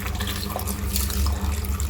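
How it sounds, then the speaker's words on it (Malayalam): Water pours steadily into a cooking pot on a home stove while lunch is being made, a continuous close splashing and gushing stream that runs throughout without talk. "ഇനി ഇതിലേക്ക് വെള്ളം ഒഴിക്കാം."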